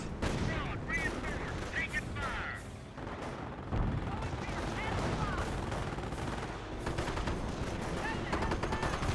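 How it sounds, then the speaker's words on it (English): Quad half-track gunfire in the Company of Heroes video game, a dense, continuous rattle of automatic fire mixed with explosions and other battle noise throughout. "Quad half track makes some good damage here."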